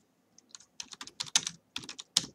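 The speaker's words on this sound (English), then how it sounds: "So we can type any value in this text box." Keys tapped on a computer keyboard while entering a value into a spreadsheet text box, a few light irregular clicks followed by quicker clustered bursts of typing, close and clear with no talk.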